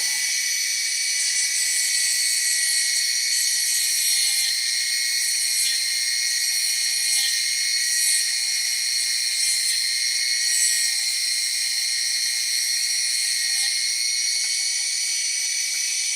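A lapidary grinder bevels the edge of a stone with a steady, high-pitched whine that runs continuously, close and unbroken, with a few slight rises in intensity as the stone presses against the wheel.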